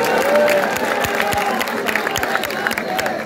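A crowd at an outdoor political rally for the Kalyan constituency near Ulhasnagar cheers and claps continuously, loud and close, with whistles and scattered shouts rising over the roar.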